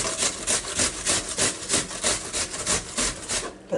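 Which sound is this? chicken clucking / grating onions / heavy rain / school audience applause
grating onions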